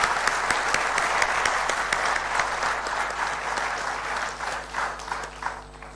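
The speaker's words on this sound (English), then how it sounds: "let's give a round of applause to our presenters tonight" An audience at an evening presentation gives its presenters a round of applause, many hands clapping steadily with a faint electrical hum running underneath, the clapping thinning and growing patchier near the end.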